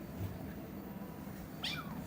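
A kitten lets out a single short complaining meow, fairly close and clear, near the end of an otherwise quiet stretch with a soft rustle early on.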